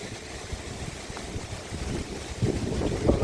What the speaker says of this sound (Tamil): காற்று சும்மா பிச்சு எடுக்குது காற்று